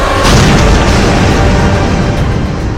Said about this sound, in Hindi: यहां होने वाले धमाके इसकी सिर्फ एक मिसाल है।